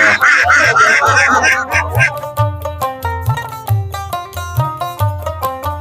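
Ducks quack loudly and repeatedly close by, in bursts of overlapping honking calls against a busy outdoor background at a village market selling ducks, chickens, cattle and goats.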